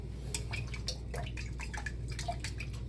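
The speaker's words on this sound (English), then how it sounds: "And now we are ready to mix it up real good." A liquid glue and rubbing alcohol mixture is stirred for a snow globe repair, with soft irregular wet clicks and small splashes close up over a low steady hum, and no voices.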